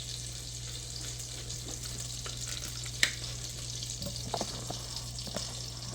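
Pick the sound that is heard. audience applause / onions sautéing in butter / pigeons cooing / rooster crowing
onions sautéing in butter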